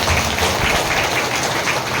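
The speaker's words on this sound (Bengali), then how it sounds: "জোরে ঈশ্বরের জন্য করতালি দেন।" Congregation in a church clapping together, a dense, steady wash of applause filling the space without pause, loud and sustained throughout.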